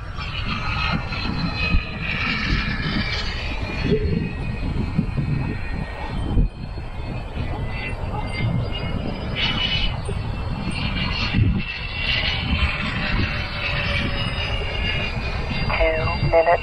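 A Freewing A-10 radio-controlled jet flies overhead, its ducted-fan whine a steady roar that swells and shifts throughout, with people talking faintly beneath it.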